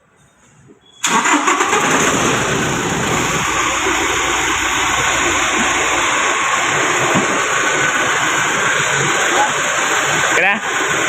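A car engine cranks and catches loudly after a quiet moment, then settles into a steady, close, roaring idle that runs on alone with a brief rattle near the end.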